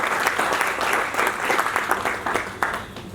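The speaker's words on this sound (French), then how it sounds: "Je voudrais que vous fassiez un applaudissement pour Olivia." Audience applause for a woman named Olivia at a human capital management event, a dense steady wash of many hands clapping at moderate level, fading slightly toward the end.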